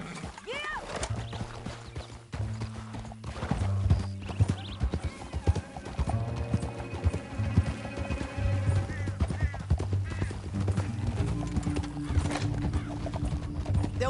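Horse hooves clip-clop steadily at a gallop in the Red Dead Redemption 2 video game, with an occasional whinny, layered over a game score and a voice speaking intermittently.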